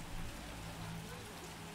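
Rain falling in the swamp of the video game The Witcher, a soft, steady hiss of drops held at a low, even level through the short stretch.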